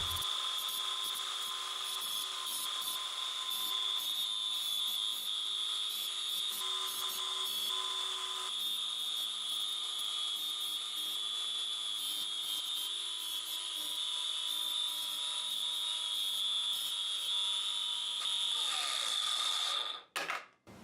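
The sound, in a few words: battery power tool grinding, winding down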